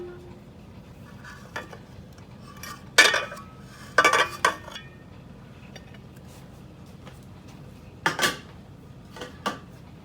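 A baked strawberry shortcake pan is lifted out and flipped onto a cake plate, giving a few sharp metallic clanks and clinks spaced apart over quiet room tone.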